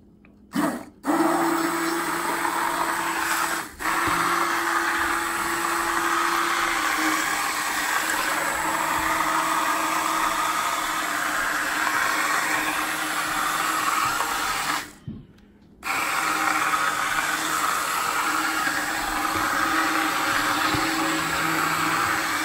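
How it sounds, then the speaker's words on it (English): An immersion blender whirs loudly and steadily through a pot of marinara sauce, running almost nonstop with two brief pauses where the motor cuts out and restarts. "I'm going to take my immersion blender and I'm going to blend it up just to make it a little bit smoother"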